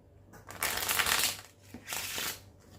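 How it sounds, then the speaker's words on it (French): A deck of playing cards being shuffled during a card trick, two quick riffling bursts close up, each lasting under a second, with a short pause between them. "Hop, je vais pouvoir mélanger le jeu."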